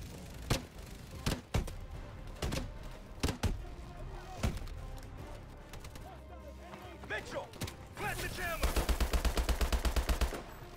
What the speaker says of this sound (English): there are people shooting at me